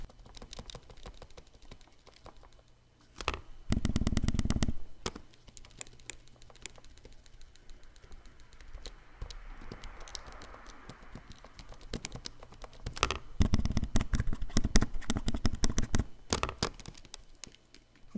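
Light plastic creaks and clicks from the body of an HP 12C Platinum financial calculator, sporadic and close, with a denser burst of rattling handling noise partway through and another cluster near the end.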